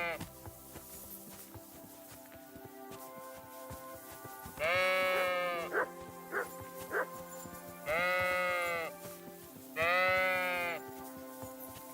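Sheep in the medieval game Kingdom Come Deliverance 2 bleat three times, long loud calls with a few short bleats between them, over a steady low game ambience.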